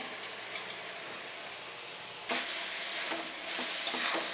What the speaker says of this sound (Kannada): ಹಾಗೆ ನೋಡಿ ನಾನು ಗೋಡಂಬಿ ಹಾಕ್ತಾಯಿದ್ದೀನಿ ಒಂದು ಗ್ರೇವಿಗೆ